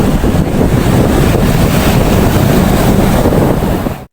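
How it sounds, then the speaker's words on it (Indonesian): Ocean waves roll and crash in a continuous, loud wash of surf, heavy with wind rumble, that holds steady for several seconds before cutting off abruptly. "mendengarkan suara deburan ombak yang sedang bergulung"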